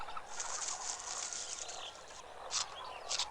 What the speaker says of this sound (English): The toucan is a tropical bird that lives in the rainforests of Central and South America.